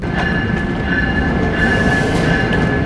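Passenger train running near Metropark in New Jersey, USA, with a loud continuous rumble of wheels on rails, a thin sustained squeal, and faint rhythmic clacks, heard close up without talking.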